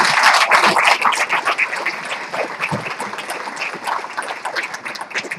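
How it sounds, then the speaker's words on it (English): An awards-show audience applauds one another, with clapping that starts strong and then thins into uneven, fluttering claps with some cheering voices mixed in. "just give each other a big round of applause until we can"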